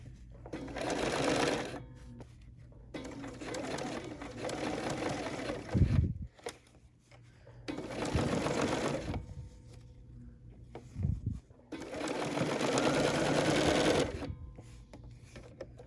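A Bernina sewing machine stitches a teddy bear in several sustained runs, each lasting a second or two, separated by short pauses. The close, steady whirring hum stands alone, without talk.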